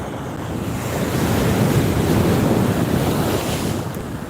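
Sea waves at Shankarpur beach surge in a steady, loud wash of surf mixed with wind noise on the microphone, with no voices.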